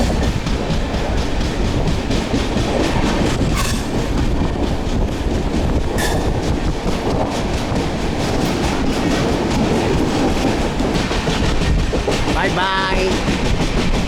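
Aboard a passenger train heading to Pune, a constant loud rumble and wheel clatter fill the cabin without letup, with a few brief higher tones passing over it.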